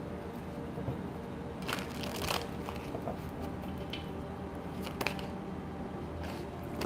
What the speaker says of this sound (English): So I'm gonna give them one more shuffle to make sure.